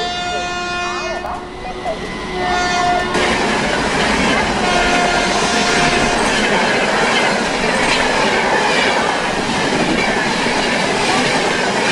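A superfast express train runs through a station. It opens with a long, loud, sustained horn over rumbling wheels, then a steady close clatter of cars rolling past, with a brief squeal.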